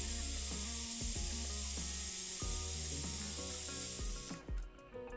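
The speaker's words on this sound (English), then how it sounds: "use a screwdriver or small Allen head to depress the valve to remove the excess air pressure" Air hisses steadily out of an electric bike's tire valve as the valve is held down with a small tool, a close continuous spray sound that cuts off near the end.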